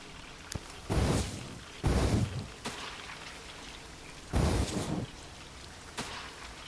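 A character wades through water in the video game Metro Exodus, and several broad splashing surges rise and fall over a steady, quieter rushing background, with no talk.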